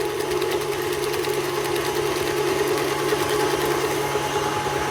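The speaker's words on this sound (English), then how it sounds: "I throw it in while the mixer is running." An electric mixer whirs in a steady, loud drone as it beats chocolate chip cookie dough, with a faint rhythmic churning and no voices.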